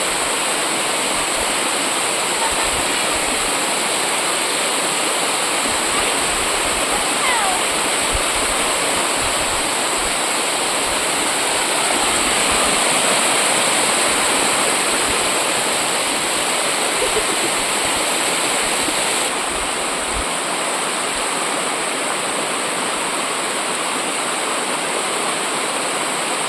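Stream water flows and splashes steadily over rocks in a mossy outdoor spot, a loud, continuous broadband rush close at hand with no speech over it.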